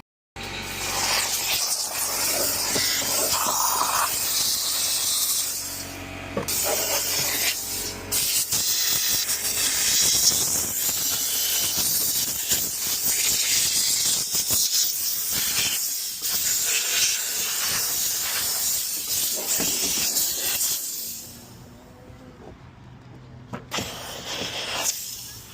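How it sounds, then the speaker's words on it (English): A steam cleaner hisses in long, loud, continuous bursts while a car interior is detailed on a mobile detailing job, with brief gaps and a quieter stretch near the end. "I'm gonna have to steam that."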